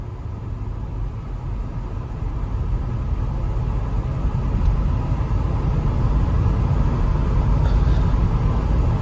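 Supercharged Range Rover driving steadily, its engine and road noise a constant low drone that builds slightly as it pulls through the gears, with no one talking over it.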